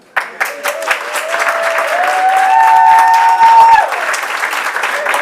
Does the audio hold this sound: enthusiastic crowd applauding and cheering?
yes